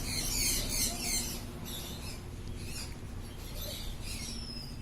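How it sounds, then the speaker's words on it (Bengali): At a bird market in Garia, Java sparrows kept for sale give quick, high chirps in repeated bursts over a dense market murmur, fairly faint. "সুন্দর সুন্দর জাভা পাখি দেখতে পাচ্ছেন"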